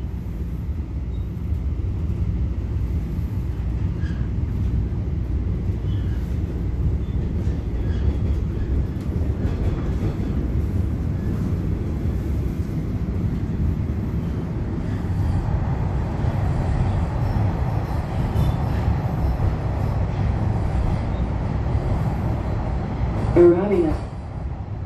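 Interior ride on a Bombardier Toronto Rocket subway train on TTC Line 1 between Rosedale and Eglinton, with a steady rumble and faint wheel clatter under voices, plus a brief tonal chime near the end.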